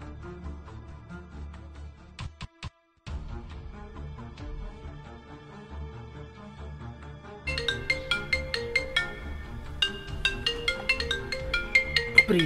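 A mobile phone ringtone plays as a repeating melodic tone pattern. It starts soft and then grows louder and brighter in the second half, with a brief dropout near the start and no talking.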